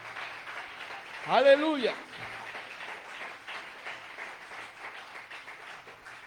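A church congregation claps for Jesus Christ during a sermon, the applause spreading as a steady patter beneath a loud voice calling out, then carrying on at moderate level.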